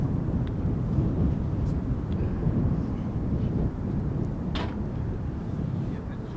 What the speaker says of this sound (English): an A321 from Air France coming in from Paris